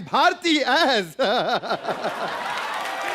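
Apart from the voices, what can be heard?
applause from studio audience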